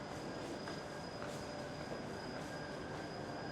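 The Tachikawa monorail at the south end of its line makes a steady, loud rumble and hum that carries through the whole stretch without voices.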